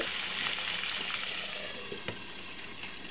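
Beef chaap sizzles steadily in a pan, giving a continuous bright crackle with a few small pops and spatters, moderately quiet and close with no voices.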